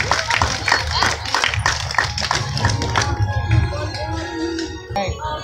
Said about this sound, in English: let's give Bo one more big round of applause